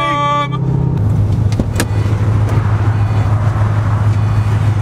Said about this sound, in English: Cruising about 70 miles an hour, going up towards Sparta.